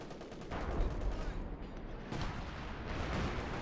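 Artillery barrage fire in the video game Company of Heroes 2 rumbles in a dense series of booms and blasts, moderately loud, with a commentator's voice faintly underneath.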